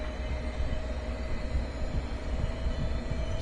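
A train rolls past in the Train Sim World 2 railway game on the Peninsula route, a steady close rumble of wheels and carriages that holds at even loudness, with no talking.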